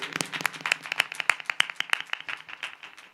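A temple audience claps along during a Shrimad Devi Bhagavat katha at a Mata Sheetla shrine, producing dense, rapid, fairly steady handclaps from many hands at moderate volume, with no talk over them.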